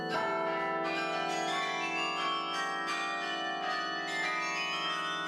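A large 61-bell church carillon in Hondschoote, France rings out in a dense, overlapping peal, many tones sounding together with repeated strikes and a long ringing sustain.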